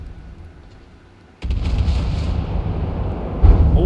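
A warship gun battery in the From the Depths naval combat game fires a sudden booming blast, then a sustained low rumble follows and a second heavy thud comes near the end. All of it is loud and close, with no talk.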